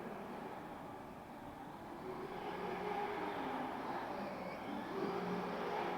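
A small motor in an MJX 7304 Polo 1/7 scale RC car whirs and rattles steadily at close range, a continuous mechanical buzz that rises slightly in intensity.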